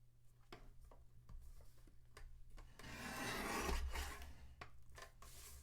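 Card stock being cut on a paper trimmer, heard as a soft scraping rasp that swells in the middle and then fades, with scattered light ticks and taps around it. There is a low steady hum in the background.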